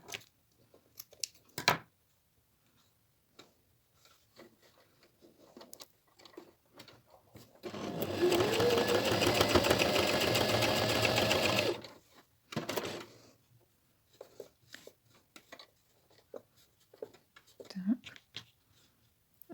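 A sewing machine stitches a crazy rose quilt block in one steady, loud run of about four seconds, framed by quieter clicks and handling of fabric before and after.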